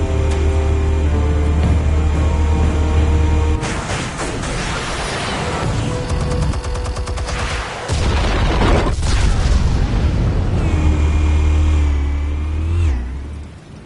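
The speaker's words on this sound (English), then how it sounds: "Explosives armed. Fire when ready." Explosives fired and detonating in a Batman cartoon scene, with heavy booming blasts, roaring engine-like rumble and rising whooshes layered over a loud, dense action soundtrack.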